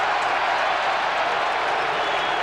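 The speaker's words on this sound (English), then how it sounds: "Ironical cheer from the Melbourne supporters" Ironic cheer from Melbourne supporters at a 1987 North Melbourne vs Melbourne round 2 football match: a steady, broad crowd roar with scattered clapping, sustained and even throughout, heard from a distance across the ground.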